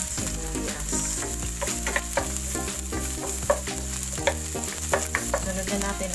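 Onions sauté in a pan for a Filipino upo and galunggong dish, a continuous hissing sizzle with rapid crackles and spatters and a low background hum, without speech.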